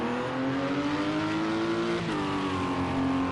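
LMP2 prototype race cars with Judd and Nissan engines in a racing video game produce a continuous high-revving engine whine. The pitch climbs steadily, then shifts briefly after a gear change, loud and alone without talk.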